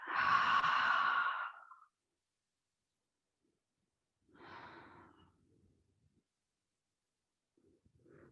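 Slow, deep breaths during a yoga session: one long, loud exhale, then a softer breath a few seconds later and a faint third at the end, separated by near silence.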